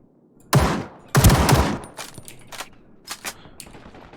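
Gunshots from a weapon in the battle royale game Ring of Elysium: two loud, close bursts of rapid fire followed by several shorter, fainter single shots and short bursts.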